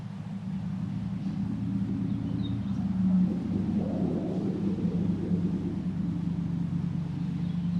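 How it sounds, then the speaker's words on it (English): A truck drives along a nearby road, a steady low rumble holding throughout and swelling slightly midway, with no voices. "I don't know how noisy that truck is going to be to the camera"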